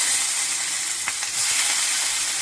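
Capsicum frying in hot oil with cardamom, cloves and cinnamon gives a loud, steady, close sizzle and hiss that fills the whole moment, with a faint stir or two and no talking.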